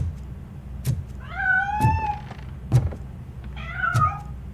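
A cat in the video game Robocop: Rogue City meows twice. Each meow is clear and rising, with soft thumps and game ambience in between.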